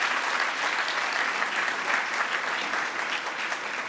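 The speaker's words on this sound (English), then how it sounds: "That's worth a round of applause." Sustained applause from an awards ceremony crowd, steady and dense clapping throughout with no pauses, fairly loud and close.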